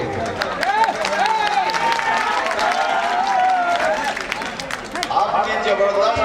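A large crowd at a political nomination rally in Karakat, Bihar applauds and cheers steadily throughout, a dense continuous wash of clapping with crowd noise and voices mixed in.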